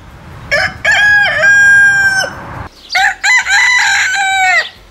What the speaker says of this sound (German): da laufen in der Früh irgendwelche Hühner und Hähne um das Auto drumherum